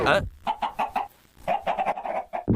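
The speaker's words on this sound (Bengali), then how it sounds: "ওগুলো কি মুরগি যারা একসাথে উঠছে?" Minecraft chickens clucking in a rapid series of short, close, evenly spaced clucks, pausing briefly before another quick burst.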